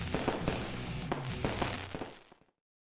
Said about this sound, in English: Fireworks, fireworks, fireworks!